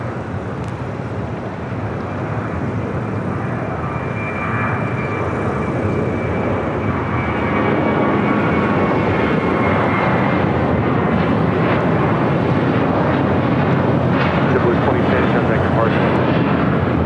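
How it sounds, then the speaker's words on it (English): A JetBlue Airways Airbus A321 takes off at LAX, its engines a broad, steady roar that builds gradually, heard at a distance under a faint background. "This is MINT taking off to West Palm Beach on an A321 JetBlue Airways flight 2010."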